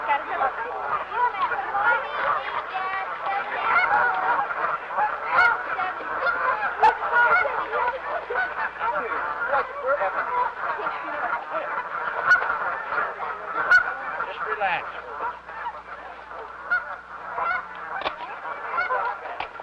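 Flock of geese honking continuously at a banding sanctuary, a dense overlapping chorus of calls that holds steady and fairly loud throughout.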